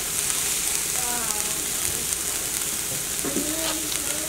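Vegetables for shrimp scampi sizzle steadily in a hot pan, a close, even crackling hiss with someone talking over it.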